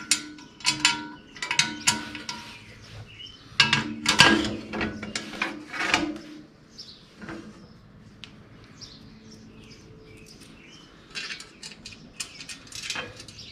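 A second hiller wing is bolted onto a Troy-Bilt tiller with clinks, ratcheting and metallic scrapes in bursts, busy at first, then sparser with quiet gaps.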